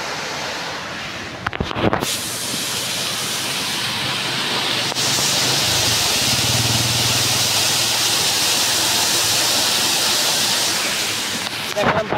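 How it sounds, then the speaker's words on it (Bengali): Water rushing through open gates at the Teesta Barrage, a steady loud roar of spray and churning flow that dominates nearby, with brief handling bumps at the start. "গেটের উপর দিয়ে পানি যাচ্ছে"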